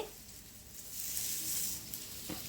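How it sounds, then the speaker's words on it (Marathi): Fish fries Malvani style in a pan, a steady close crackling sizzle of hot oil that holds throughout with one small pop near the end. "हे बघा तर आपल्या इकडे फिश हे फ्राय होतं आहे"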